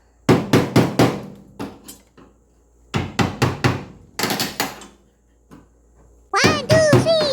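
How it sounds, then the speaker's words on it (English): Bursts of sharp metallic hammer strikes on an old screwdriver prying metal off a rusty firepit, in quick groups of three to five, separated by pauses, with a short spoken phrase near the end. "I've got an old screwdriver and a hammer, and I'm just going to get in behind it"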